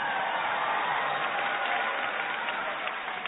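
A large audience at a national Christmas celebration gives a sustained, even roar of applause that sounds distant and muffled, with no voices standing out.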